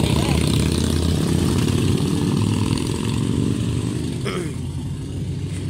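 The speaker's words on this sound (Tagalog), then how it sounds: "Harley Davidson." A loud, rumbling Harley-Davidson motorcycle engine idles and chugs steadily up close, with a brief higher sound near the end.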